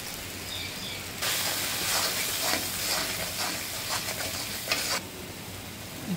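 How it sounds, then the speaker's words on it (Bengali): Spice paste with coriander leaves, chili, turmeric and salt is stir-fried in a pan, making a loud close sizzle. A burst of vigorous scraping and stirring runs through the middle for about four seconds, with no talking. "মশলাটা ভালো করে কষাই নিব"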